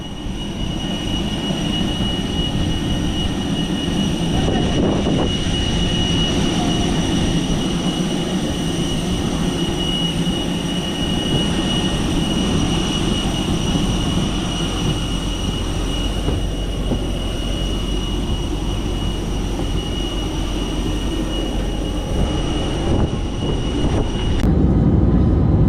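Steady, loud cabin roar aboard an American Airlines Airbus A321neo in flight, a continuous broadband engine and airflow drone with faint tonal whine, unbroken and without speech throughout.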